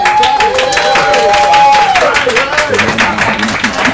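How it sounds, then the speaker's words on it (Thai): A crowd of political supporters at a Thai rally cheers and claps steadily throughout, dense and loud, while an amplified voice with a sliding tone cuts over the noise. "กองเชียร์นี่เนี่ยเชียร์กันได้ถึงพิกถึงคิงมากอ่ะ"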